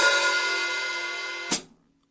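An open hi-hat on a drum kit rings with a bright, washy sizzle for about a second and a half, then is choked shut with a short closing chick, heard alone and close.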